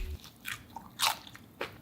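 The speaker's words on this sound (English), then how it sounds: "But first, the crunch test." Crisp crunch of teeth biting into grilled barbecue chicken wings, a few short crackling bites spaced across under two seconds, close and fairly quiet with no talking.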